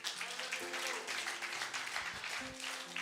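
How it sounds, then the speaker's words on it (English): Congregation clapping in church during praise, a soft distant wash of applause under sustained musical tones and voices. "You may clap and give praise to God."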